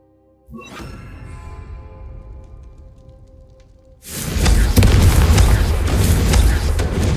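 The Confringo fire spell from Hogwarts Legacy bursts into a loud, sustained roaring explosion that fills the second half, following a quieter spell-casting buildup.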